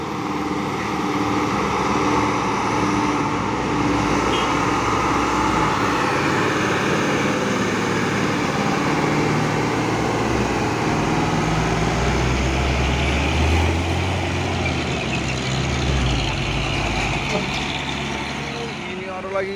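Heavy trailer trucks, one a Mercedes-Benz hauling a tank and another carrying a giant box, grind uphill with a loud, steady low engine drone and road rumble; someone talks over them throughout.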